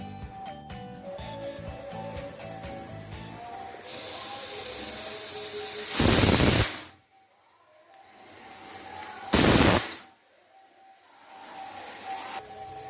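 A pressure cooker holding mutton with a little garlic and potato vents steam in two loud, close, harsh bursts of hissing, each lasting under a second. A faint kitchen hum and soft clatter fill the gaps, with no talk.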